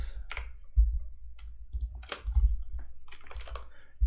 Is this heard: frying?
no